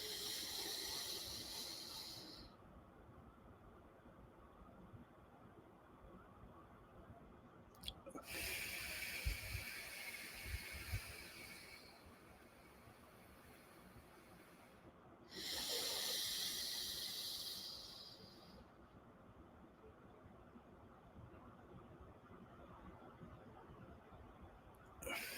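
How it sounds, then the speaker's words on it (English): Controlled 4-7-8 breathing: soft, close airy breaths alternate with quiet held pauses, each breath lasting several seconds in a slow, repeating cycle. "it's a 4-second in, it's a 7-second hold, and then it's an 8-second out"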